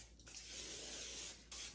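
Palm olive oil spritzed from a spray bottle onto patted-dry food in a kitchen, one continuous soft hiss lasting about a second, quiet and close.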